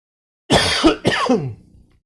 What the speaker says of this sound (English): I want to cough.